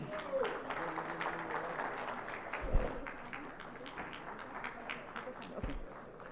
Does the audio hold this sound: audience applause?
yes